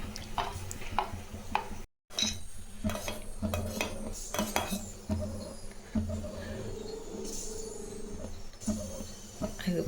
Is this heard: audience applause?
no